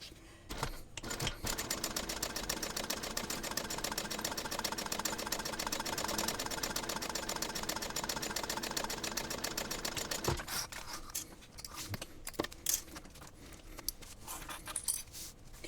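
A sewing machine runs steadily at medium speed top-stitching a fabric backpack with a long stitch, close and continuous for about ten seconds, then stops, leaving a few soft handling clicks and knocks.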